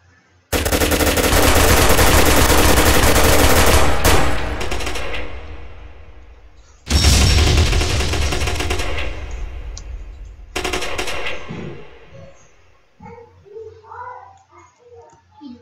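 Rapid automatic gunfire in a Roblox shooter game, loud sustained bursts of about four seconds, then another of several seconds, a shorter third burst, and fading scattered sounds at the end.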